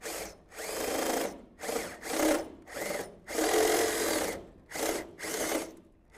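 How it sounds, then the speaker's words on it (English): Power drill boring a hole for a wing pitot installation, widening it step by step to snap-ring size, in repeated bursts of whining drilling separated by short pauses, close and fairly loud with no talk. "So I'll go ahead and drill this up to that fourth ring size."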